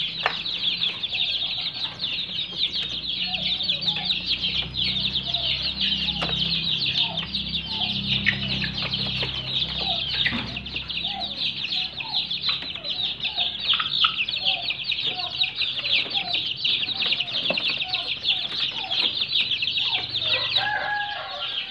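Young turkeys and chicken chicks kept together chirp and cluck constantly at close range, a dense mass of high, thin peeps running unbroken under a faint low hum, with occasional soft flutters.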